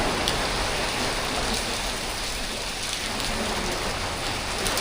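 Heavy rain pours down steadily over Siam Square, Bangkok, a dense hiss of drops hitting surfaces all around, loud and unbroken with no voices.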